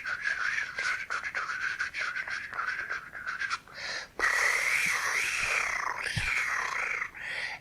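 A voice imitates fairy wings fluttering with breathy, rapid trilling puffs of air, close and fairly loud, rising in intensity halfway through.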